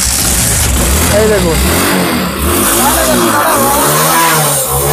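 A second-hand motorcycle at a Kolkata used-bike dealer revs loudly and close up, its engine rising and falling continuously while someone talks over it.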